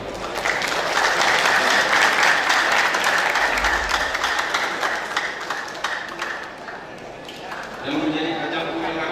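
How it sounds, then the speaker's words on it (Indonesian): Loud, sustained clapping fills a hall at a tourism ambassador crowning ceremony in Central Aceh, and voices chatter and call out over the applause before it thins toward the end. "Mohon tepuk tangan semuanya."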